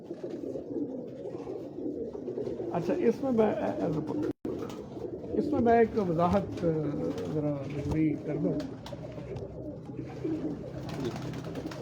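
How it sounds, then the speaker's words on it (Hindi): Pure-breed pigeons coo in soft, repeated warbling calls on a Lahore rooftop, while someone talks over them at close range. "ये सब मतलब प्योर ब्रीड के कबूतर हैं"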